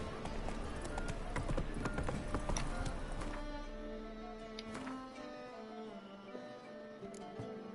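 Roach the horse gallops in The Witcher 3 video game, rapid rhythmic hoofbeats clip-clopping under game music, fading as the ride slows.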